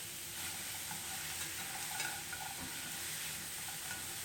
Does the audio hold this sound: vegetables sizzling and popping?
yes